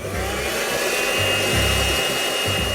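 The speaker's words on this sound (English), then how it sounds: "That powers things like this hairdryer." A hairdryer runs steadily up close, a constant high whir with a low droning hum, uninterrupted for a few seconds.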